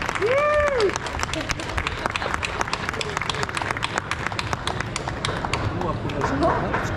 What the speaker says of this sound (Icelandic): Gefið ráðherranum gott klapp